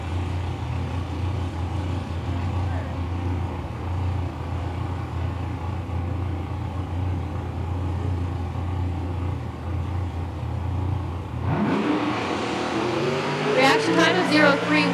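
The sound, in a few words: nostalgia drag race car launching down the left lane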